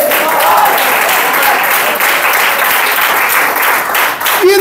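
A church congregation at a family worship service claps loudly and steadily, dense applause filling the room without a break.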